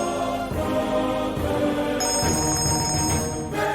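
A mobile phone rings indoors with a loud, continuous tonal ringtone that keeps going for the whole stretch, with no voices over it.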